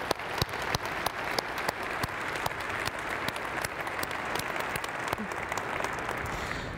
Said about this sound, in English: Let's give them a great big round of applause.